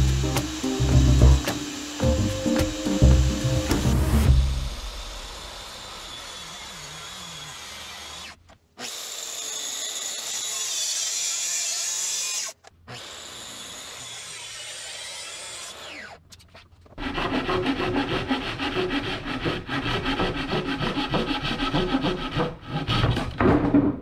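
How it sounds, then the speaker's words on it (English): Power drill boring through birch plywood for a sink cutout in a laundry cabinet, followed by a saw plunge-cutting between the holes; loud, close bursts of grinding tool noise separated by short pauses. "I'm drilling it in four places to get nice radiused corners, which I'll connect using plunge cuts."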